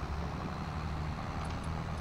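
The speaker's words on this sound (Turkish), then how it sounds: "Biraz traktörlerin sesini duyurmak istiyorum." Tractors including Deutz, Tümosan, New Holland and Başak models hauling logs, their engines a steady low diesel drone at moderate distance with no talk.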